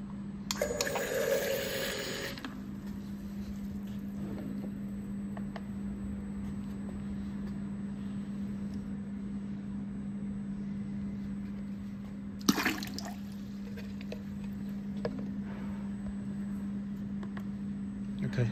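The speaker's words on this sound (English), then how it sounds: "you can see now we have preset the filling volume is 100 milliliter." A single head aqueous liquid filling machine set to dispense 100 milliliters runs with a steady low motor hum. Two bursts of liquid rush out, one longer near the start and a short one later.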